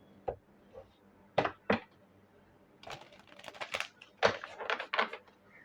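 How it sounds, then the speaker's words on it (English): Tarot cards being shuffled by hand in a quiet room: several sharp, papery riffles and taps come in uneven bursts, close and fairly soft, with a busier run of quick flicks near the end. "let me just shuffle these cards"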